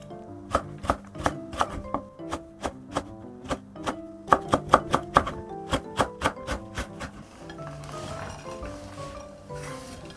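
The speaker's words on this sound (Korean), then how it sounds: "풋고추를 송송 썰어주세요." A knife chops green chili peppers quickly and rhythmically on a cutting board, crisp close taps in steady bursts that speed up, then fade into softer scraping.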